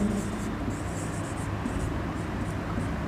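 Marker or chalk scratching steadily across a classroom board while an equation is written out, a continuous soft scraping texture at moderate level with no voice.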